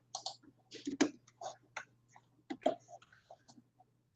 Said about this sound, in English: I'm going to tap my spacebar over the perspective view.